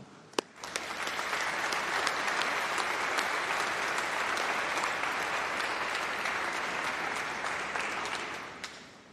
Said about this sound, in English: let's give a round of applause and a huge cheer to say thank you to all of your supporters